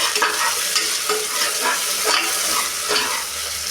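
Onions and mint sautéing in a pan for chicken biryani, a steady close sizzle with repeated stirring scrapes roughly every half second, no talking.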